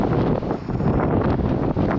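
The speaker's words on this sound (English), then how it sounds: "Very windy here today." Strong outdoor wind buffets the microphone with a steady, low, rumbling roar that swells and dips throughout, with no other clear sounds.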